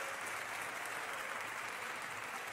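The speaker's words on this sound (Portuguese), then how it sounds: "E agora terminamos dando um lindo aplauso ao Senhor." Congregation in a church applauding to the Lord at the end of a service: continuous dense clapping, steady and fairly faint, filling the whole moment without pause.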